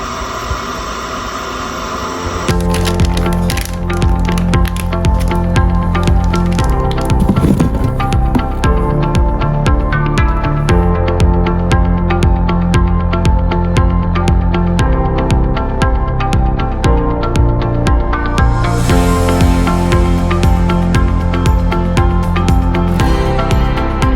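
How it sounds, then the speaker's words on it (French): An electric bidet seat's air dryer switches on and runs with a loud, steady mechanical whir and hum close by, continuing unbroken without talk. "Puis le séchoir."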